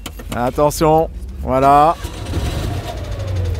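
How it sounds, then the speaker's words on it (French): A Citroën 2CV's small engine cranks and catches, then settles into a steady idling rumble after a few spoken words at the start. "c'est le bruit de la 2 chevaux"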